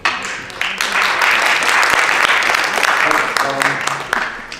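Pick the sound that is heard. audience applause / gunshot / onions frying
audience applause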